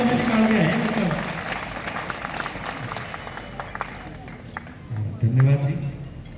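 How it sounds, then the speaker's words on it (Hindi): An audience claps for a visiting doctor at a village school gathering, a moderate burst of applause with a voice speaking over the start and again near the end. "जोरदार तालियां हो जाएंगी डॉक्टर साहब के लिए"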